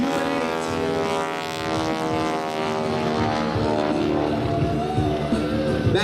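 Aerobatic propeller airplanes at an airshow give a steady, loud, rasping engine growl as the propeller tips spin near 2,200 rpm, sustained throughout with no voices.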